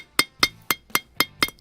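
A hammer strikes a used nail sharply six times in an even rhythm to pound it back out, each hit a bright close metallic clink.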